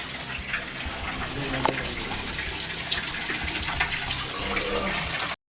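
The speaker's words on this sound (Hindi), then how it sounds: "आइए देखिए कितना पानी गिर रहा है" Water gushing from a broken tap in a bathroom, a steady loud splashing stream that runs continuously for several seconds before cutting off abruptly.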